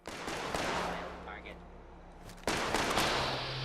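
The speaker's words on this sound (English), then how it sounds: "I hear gunshots." Bursts of gunfire crackle over a loud, dense background rumble in Fallout 76, with a heavier volley kicking in near the end, sounding like combat in a game.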